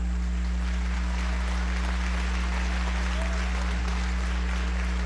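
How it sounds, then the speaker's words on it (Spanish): Steady applause fills a national assembly session hall, a continuous broad wash of clapping with a constant low hum underneath, sustained evenly throughout. "Un aplauso para él."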